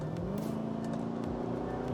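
A Mercedes-Benz SLK55 AMG with its V8 engine runs at a steady, low, throbbing rumble with a constant hum, close and even in level for the whole moment, with no voices.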